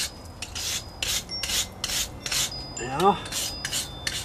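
Brick wall joints get rubbed to clear concrete residue, a steady rasping scrub in quick repeated strokes close by, with one short word spoken partway through.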